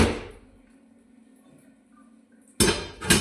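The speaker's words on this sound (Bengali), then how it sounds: "এখন আমি চুলাগুলা বসাবো" Cooking stoves being set down, a noisy clatter at the start, then near quiet, then two sharp metallic thuds and clinks close by toward the end.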